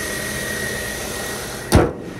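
A 2004 Honda CR-V EX with a VTEC engine idles under the hood in a steady, even hum, broken near the end by a brief, loud whoosh.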